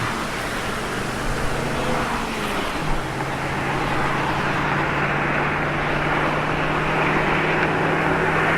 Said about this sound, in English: creating another copy of the highway sound as the main sports car sound fades away